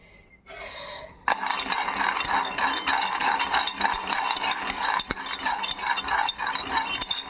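Dry chana dal being stirred and roasted in a pan on a stove over medium heat, a steady close-up rattle and scraping of grains against the metal with scattered clinks, no voices.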